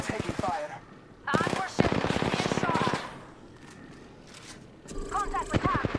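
Rapid automatic gunfire bursts ring out in the Apex Legends battle royale game, several sharp rattling volleys with quieter pauses between them and voices speaking in places.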